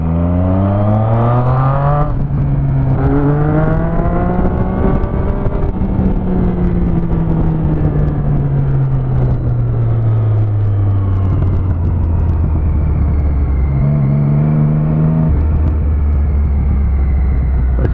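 A car drives with a loud, close engine drone whose pitch sweeps up and down through gear changes and revs, steady and continuous throughout with no talking.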